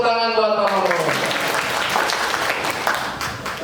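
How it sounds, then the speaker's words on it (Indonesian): Applause from an audience at a family gathering in Bogor, dense clapping filling the room after a brief tonal sound at the start, steady and fairly loud throughout with no talk over it. "kasih tepuk tangan buat Pak Mamun"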